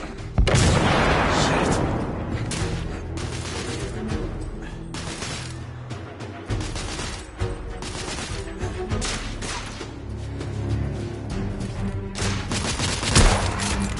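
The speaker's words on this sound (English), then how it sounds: "I'll cover you! Grenade out!" A grenade explosion and bursts of gunfire during a firefight in The Order: 1886 video game, heard as a dense, continuous barrage of booms and shots with crashing impacts throughout.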